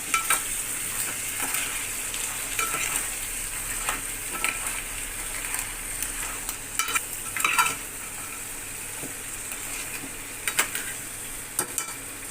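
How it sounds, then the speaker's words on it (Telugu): Crab curry being stirred in a pan on the stove, with steady frying sizzle and intermittent scraping and clinking of a utensil against the pan, close and alone without talk. "పీతలో వేసుకుని కలుపుకున్నాం మూత పెట్టి మగ్గ పెట్టుకుందాం తిప్పుకుందాం"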